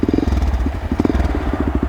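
A Honda NX650 single-cylinder motorcycle engine with a sticky throttle idles close and loud, a heavy, fast, lumpy thumping pulse that runs throughout.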